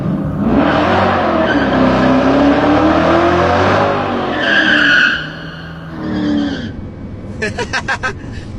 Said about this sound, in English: is going to do, I think, a massive burnout